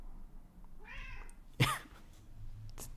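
A pet cat meows indoors, one soft drawn-out cry followed by a sharper, louder meow, then a faint short call, over quiet room hiss.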